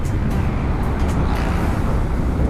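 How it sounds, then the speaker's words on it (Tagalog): Dense road traffic noise recorded from a motorcycle in Thailand: a steady, loud broadband roar of engines and tyres that holds level throughout with no clear breaks. "Grabe yung traffic."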